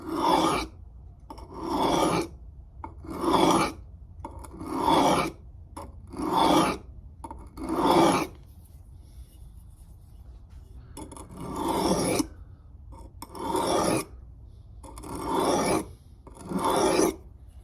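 A knife blade is drawn across a whetstone in about a dozen regular gritty strokes, each rasping pass close and distinct, separated by short quiet gaps with a brief pause midway.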